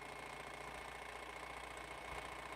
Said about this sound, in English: Finish sewing this side.